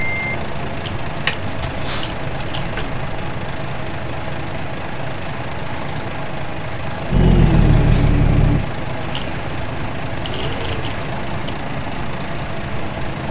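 A reversing truck in American Truck Simulator gives out a steady series of high beeps over its engine rumble, with a brief louder burst of air-brake hiss partway through.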